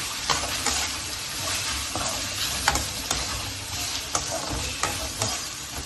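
Onions sautéing in a pan for mutton kulambu, a steady close sizzle and frying hiss with several sharp scrapes and clacks of a spatula stirring through, no voices.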